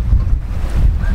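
Wind blowing steadily across a sailboat at sea, a continuous low rumble of gusts buffeting the microphone, with water and hull sounds mixed in, no voices.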